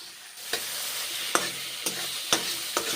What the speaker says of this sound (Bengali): এইভাবে পটলগুলোকে মশলার সঙ্গে ভেজে নিচ্ছি